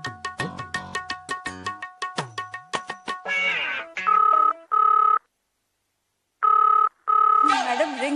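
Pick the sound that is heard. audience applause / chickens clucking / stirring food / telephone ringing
telephone ringing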